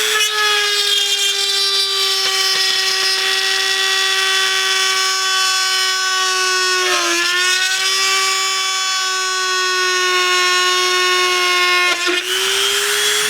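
A power drill whines steadily at high pitch for a long stretch while fitting chase lights to a Can-Am Maverick X3 side-by-side, briefly dipping in speed midway and again near the end before cutting off.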